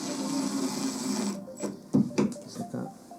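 Power driver running screws into wooden slats, a steady motor whir for about a second and a half followed by short bursts of driving and clatter, close and fairly loud.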